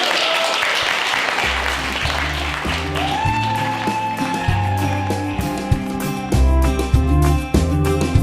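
Guests applauding at a wedding: dense clapping swells early, then gives way to music with sustained tones and rhythmic low notes that continue to the end.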